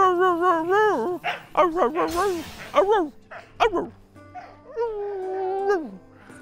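A puppy yips, whimpers and gives short, pitch-bending barks in quick bursts, close and fairly loud, with a brief noisy scuffle in between.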